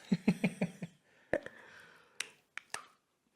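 Spicy snack being bitten and chewed, a quick run of five crisp crunches followed by a few scattered sharper crunches, close and fairly quiet with no talk.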